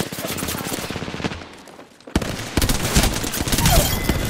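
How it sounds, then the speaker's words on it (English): Rapid automatic gunfire bursts in the video game Apex Legends, loud and close, with a brief lull before the shooting resumes in dense, overlapping volleys. "I shot at an enemy."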